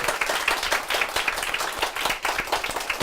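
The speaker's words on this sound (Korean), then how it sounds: "축하의 박수 한번 부탁드립니다" A church congregation claps in congratulation for a new theology student after her testimony, loud, close, dense applause with crisp individual hand claps throughout.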